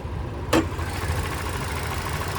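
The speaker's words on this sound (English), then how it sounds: "There's that naturally aspirated 2-liter 4-cylinder." A 2024 Toyota Corolla Hatchback SE's naturally aspirated 2-liter four-cylinder idling with the hood up, a steady low hum with one brief click near the start, heard close and alone.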